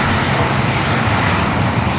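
An 18-year-old Airbus A330-200, converted from passenger to cargo, arriving at Los Angeles from Mexico City, giving a loud, steady, close jet engine roar across the whole brief stretch with no voices.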